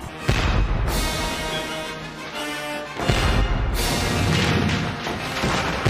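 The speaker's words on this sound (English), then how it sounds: "Who in their right mind wants to get woken up from a basketball game buzzer and a fireworks show?" A loud wake-up alarm from the movie Smart House that mixes a basketball game buzzer with a fireworks show, booming crackles and thuds in a dense, continuous burst with a break partway through.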